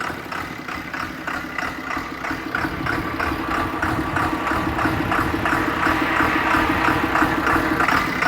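A 12-valve diesel truck engine with a lope tune idles steadily and close, a low uneven rumble with a rhythmic lumpy pulse and a faint rattle, continuous and alone.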